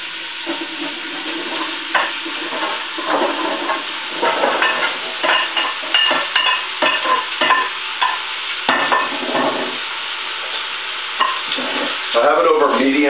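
A large onion, seven cloves of garlic and a bunch of mushrooms sauté over medium-high heat for radish soup, with a steady close sizzle broken by frequent scraping stirs of the pan.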